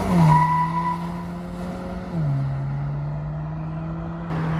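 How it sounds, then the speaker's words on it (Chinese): An MG MG7 car makes a launch start with ESP switched off, its front wheels spinning as the engine holds a steady, loud drone that drops slightly in pitch midway, close and without talk. "关闭 ESP 弹射起步，松开刹车的瞬间，前轮疯狂打滑。"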